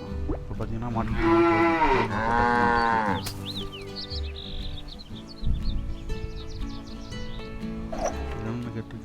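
A cow in the farming video game FarmVille 2 gives two long, loud moos back to back. Quieter chirpy game sound effects follow.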